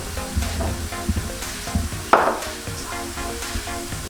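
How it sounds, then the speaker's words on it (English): A finely diced onion sizzles in a pan as it softens, with a soft steady fry beneath light clinks and taps. One louder burst of hiss comes midway, and the frying runs alone without any voices. "So we're just going to allow this to cook until the onions soften for around 2 minutes."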